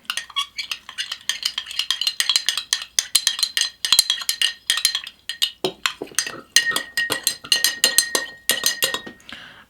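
Rapid, rhythmic clinking of a utensil whisking hojicha tea powder with water in a cup, bright ceramic taps repeating steadily and close up for several seconds.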